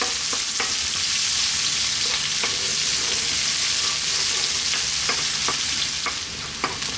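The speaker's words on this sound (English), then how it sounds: "To that we're going to add our onion. And we're on a fairly lively heat, above medium." Onions fry in a pan on fairly high heat for fish curry, giving a loud, constant sizzle with occasional spoon clicks as they are stirred.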